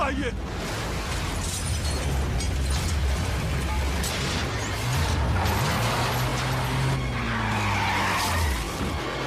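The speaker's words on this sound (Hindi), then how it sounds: "ये क्या ब्लास्ट हो गया?" A blast in a Hindi-dubbed Hollywood action movie fight scene, a loud booming rumble mixed with skidding car tyres and engine roar. The chaotic action mix stays dense and loud throughout, with shouting voices underneath.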